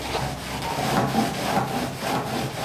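A paper towel soaked with Goof Off remover is rubbed back and forth in the groove of a GCC Jaguar plotter while its Teflon strip is replaced, giving a close, rhythmic scrubbing rasp in several even strokes.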